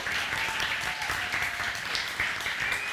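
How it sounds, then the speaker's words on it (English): A crowd claps warmly for speaker Melissa Ichiuji at an art storytelling event, a continuous, moderately loud round of applause with faint cheers mixed in and no speech over it. "Big round of applause."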